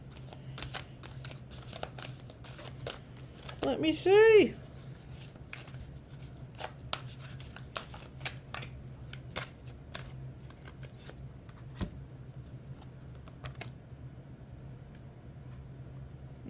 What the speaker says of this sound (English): Let me do one more shuffle because I'm not really satisfied with that card.